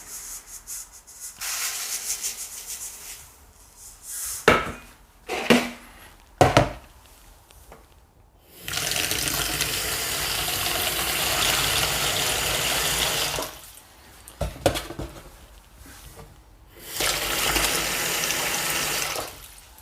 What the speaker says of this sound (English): it's a good idea to soak the seeds in water